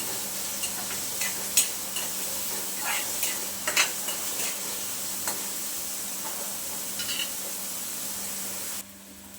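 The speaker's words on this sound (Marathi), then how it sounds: "कांदा आपल्याला छान गुलाबी रंगावरती फ्राय करून द्यायचं" Onion frying in a pan makes a faint, continuous sizzle broken by occasional sharp stirring clicks, then cuts off abruptly near the end.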